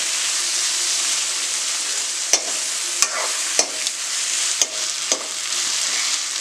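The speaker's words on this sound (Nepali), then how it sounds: "एकछिन फ्राई गर्ने." Bamboo shoot (tama) frying in a pan gives a steady close sizzle, broken by several sharp scrapes and taps of a spoon stirring against the metal.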